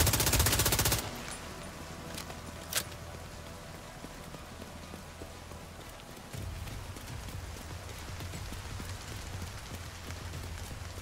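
Gunfire in a shooter video game opens loud and rapid for about a second, then drops to scattered faint shots and clatter over a low steady rumble for the rest.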